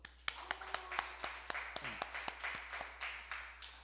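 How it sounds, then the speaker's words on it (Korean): Church congregation clapping during announcements, a sparse run of distinct, fairly sharp claps spaced roughly every quarter second, faint and somewhat distant over a low hum, with faint murmuring in the room. "박수"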